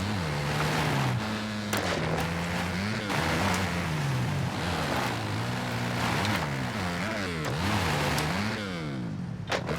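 Dirt bike engine in the motocross game MX vs ATV Legends, revving continuously with rising and falling pitch as the clutch is worked on a hill climb, loud and steady throughout with sharp gear-change spikes.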